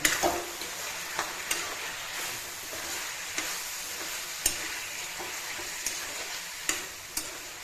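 Chicken frying in a pan with turmeric and salt gives a constant bright sizzle, with a spoon scraping and tapping against the pan at irregular moments, close and without talk.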